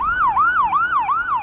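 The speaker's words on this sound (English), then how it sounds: "There's a siren going off right now." An emergency siren sounds on a street in Providence, loud and steady, cycling through rising and falling wails about three times a second.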